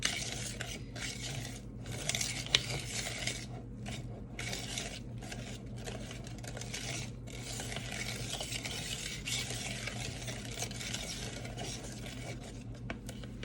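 Thick homemade Twinkie batter being folded and stirred in a bowl, a steady close-up scraping and rubbing of spatula against the bowl with brief pauses between turns, a continuous low hum underneath.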